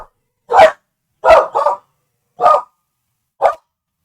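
Four separate sharp dog barks ring out at irregular intervals, loud and close. The second comes as a quick double bark, and there is silence between them.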